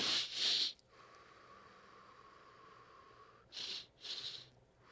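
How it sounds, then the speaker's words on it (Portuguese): Close, quiet breathing exercise: two short sharp inhales through the nose, then one long steady exhale. After a pause, another pair of quick inhales follows. "essas duas inspirações, seguidas de uma expiração longa"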